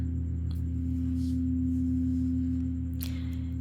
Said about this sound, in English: The sound you're hearing is a crystal singing bowl at the frequency of the root chakra.